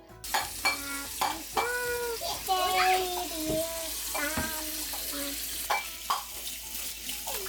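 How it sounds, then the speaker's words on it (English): Tap water runs into a kitchen sink while hands are washed with soap, a steady close splashing broken by clatters and squeaks. "After you lick them, go wash your hands with soap."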